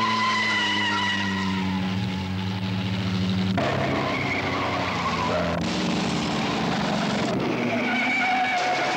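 Vintage Fiat and Aston Martin racing cars skid on a track, loud continuous tyre and engine noise with several abrupt shifts as cars pass close by.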